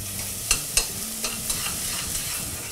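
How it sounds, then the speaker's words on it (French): Onions sweat in olive oil in a pan, giving a soft steady sizzle close by, broken by a few sharp clicks and scrapes of stirring. "On va faire revenir nos oignons sans les colorer, juste tomber pour faire sortir l'eau de végétation."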